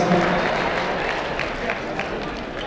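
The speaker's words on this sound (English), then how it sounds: "Let's give a big round of applause to Satch Oliver and all of the amazing guys who helped out tonight." Gala crowd at a food bank benefit applauding the organizers, a dense, fairly loud wash of clapping and crowd noise mixed with cheering, fading slightly over its short length.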